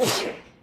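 A single short, sharp human sneeze fairly close by that fades quickly, with no talking over it.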